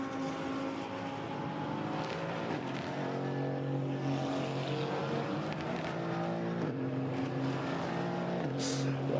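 GT4 race cars at full speed down the Mistral Straight at Paul Ricard during qualifying, loud engines droning and rising in pitch through the gears, a continuous dense roar with several cars passing.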